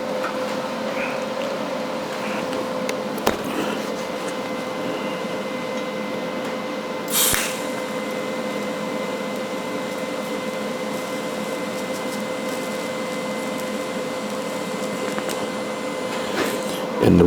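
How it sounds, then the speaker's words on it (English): A weld bead being run along a seam on cast steel, closing off a joint; a steady, continuous buzzing hiss holds evenly for the whole stretch, with a brief crackling flare midway and a sharp pop at the end. "So what I'll do is just run my weld, my weld in here, just to close that off."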